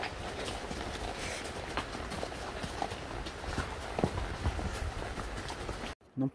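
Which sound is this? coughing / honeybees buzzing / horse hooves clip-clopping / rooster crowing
horse hooves clip-clopping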